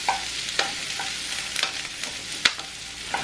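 Onions frying in a pan for an omelette, with a steady low sizzle broken by several sharp scrapes and clicks as they are stirred, close and moderately quiet, with no voices.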